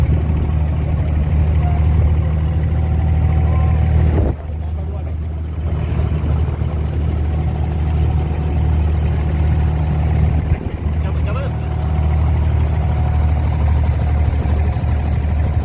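Low, steady engine rumble of an idling abra boat on Dubai Creek drones on throughout, with a brief dip partway through and voices faintly underneath.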